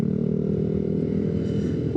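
Kawasaki Z900 motorcycle engine heard while riding, a loud steady drone with a dense low rumble and faint clatter, continuous throughout with no pauses.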